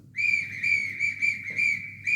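A high, steady whistle opens a record, sounding in five long sustained blasts separated by short gaps, with a low rhythmic backing beneath.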